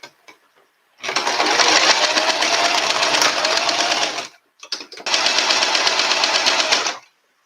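A sewing machine stitches through double and triple layers of material with a guide foot, running loud and steady in two long bursts separated by a short pause and a few brief stutters.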